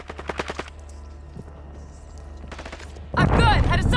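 Bursts of automatic gunfire in a Call of Duty MWII multiplayer squad match: a short rapid volley, then a quieter stretch, another burst, and a loud dense barrage of shots and impacts to the end.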